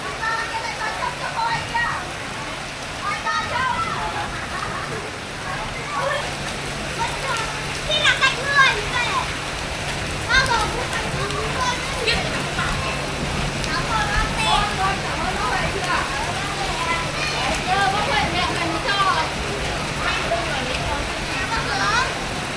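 Rain falls steadily in a Vietnamese neighborhood, a constant hiss and patter under the lively voices of children playing and talking throughout.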